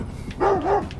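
A dog in the stealth video game Thief gives a single drawn-out, bark-like yelp with a rising-falling tone, close and alone over quiet in-game ambience.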